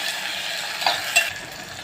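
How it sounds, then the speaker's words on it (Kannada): Steady hissing sizzle of tomatoes frying in oil, with a couple of faint clicks of a utensil partway through. "ಟೊಮೆಟೊನ ಚೆನ್ನಾಗಿ ಎಣ್ಣೆಯಲ್ಲಿ ಫ್ರೈ ಮಾಡ್ಕೊಬೇಕು"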